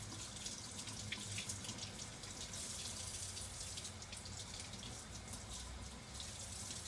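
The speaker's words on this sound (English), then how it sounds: "So I'm going to run over to my faucet, turn on my water." Warm water runs steadily from a kitchen faucet, a continuous hissing splash that stays even in level for several seconds with no talking.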